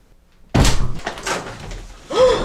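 A door slams shut with a single loud, sharp impact that rings off briefly, followed by a quieter stretch and a short voiced sound near the end.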